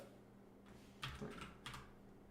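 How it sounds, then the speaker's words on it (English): Gaming computer keyboard being typed on, a few quick bursts of clacky key clicks close to the microphone, with no talking. "most of you would be able to hear my keyboard click clacking around. That's what you get for buying a gaming keyboard"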